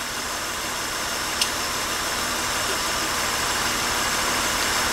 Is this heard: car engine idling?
yes